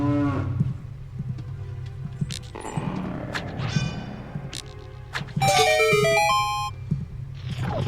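Cows moo in the game The Legend of Zelda: Ocarina of Time Master Quest, several drawn-out calls amid clattering game effects and a rising chime jingle, no speech.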